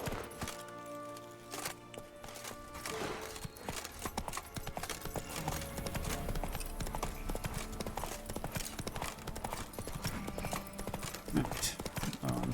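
Hooves of Geralt's horse Roach from The Witcher 3 clatter in a steady clip-clop gallop, loud and continuous over game music and effects, with a brief whinny.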